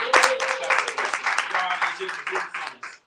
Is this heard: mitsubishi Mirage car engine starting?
no